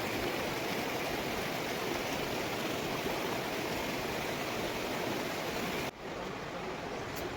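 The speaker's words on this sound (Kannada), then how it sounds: "ಗಂಗಾ ನದಿಯು ಎಷ್ಟು ಸ್ವಚ್ಛವಾಗಿ ಹರಿಯುತ್ತಿದೆ ಅನ್ನೋದನ್ನು ನೀವಿಲ್ಲಿ ನೋಡಬಹುದು" The Ganga river rushes at Gangotri in the Himalayas, a steady, dense roar of flowing water close by that continues unbroken and briefly dips in level near the end.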